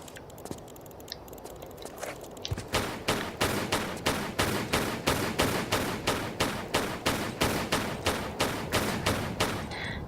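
Rapid rhythmic gunfire from a Tomb Raider level editor game, shooting scorpions in The Lost Valley: after a quiet start, sharp evenly spaced shots ring out roughly twice a second for about seven seconds, loud and alone.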